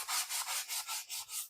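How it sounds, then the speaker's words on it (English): Rhythmic back-and-forth sanding strokes with a sanding block shaping foam on a model railway layout, about seven quick rasping passes close up, with no voices. "I'll do the rest of the shaping on this with a sanding block"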